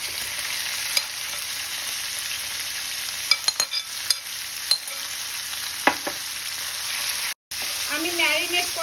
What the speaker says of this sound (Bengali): এবার আমি এর মধ্যে দিয়ে দেব ম্যারিনেট করা চিকেনটা।